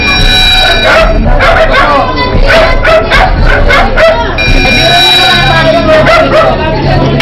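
A dog barks repeatedly in quick, sharp yips, close and loud, with some whimpering between bursts and an electronic buzz in the background.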